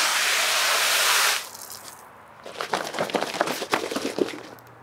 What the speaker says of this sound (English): I was just gonna spray it with the hose.